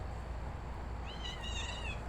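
A cat rescued from a fire gives a short, faint meow about halfway through, rising and wavering over low background rumble, no talking.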